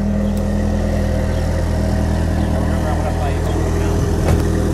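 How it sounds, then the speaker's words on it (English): A black 1985 Ford Mustang SVO with its turbocharged engine idles steadily up close, a constant low, even rumble with no revving throughout. "I'm gonna listen to it idle for a second."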